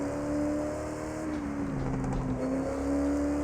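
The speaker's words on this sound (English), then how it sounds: "The only thing I don't like about it is it sounds like it's fully an electric car" A Porsche 918 driven in the racing game The Crew 2 gives a smooth, steady whirring drone that sounds almost electric, with the pitch gently dipping and rising as it accelerates, close and continuous with no gear changes.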